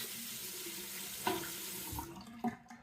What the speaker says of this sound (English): Let me wet this razor.